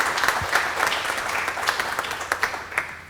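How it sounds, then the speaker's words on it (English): Audience applause for a guest at a World Environment Day panel discussion, a dense steady wash of many hands clapping with a few sharper individual claps standing out, moderately loud and continuous throughout. "A round of applause for him."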